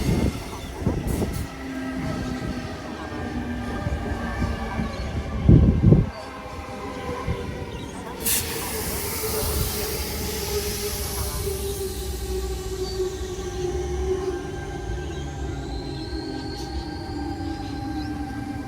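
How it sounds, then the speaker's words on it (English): A Sydney suburban train runs along the rails near Mortdale, with a steady rolling rumble and clatter, a brief loud burst of wheel noise and a rising whine as it moves, close and continuous with no talk. "After about 25 minutes at Mortdale, Matthew and I decided to board this train here towards the city to then head home."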